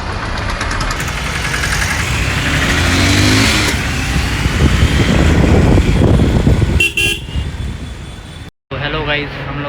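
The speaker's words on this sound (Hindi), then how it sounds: "अभी ट्रैफिक लग रखा है" Car engines idle and rumble in dense city traffic, loud and close, with car horns honking now and then over the continuous broadband drone and a sudden cut near the end.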